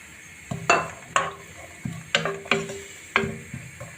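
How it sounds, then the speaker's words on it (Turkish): Thinly chopped carrots sauté quietly in oil in a pot for chicken vermicelli soup, broken by a string of sharp metallic clinks and taps of a utensil against the pan, irregularly spaced. "Önce bir havuçları kavuracağım."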